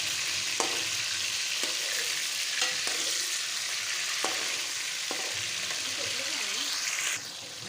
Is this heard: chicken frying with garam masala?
yes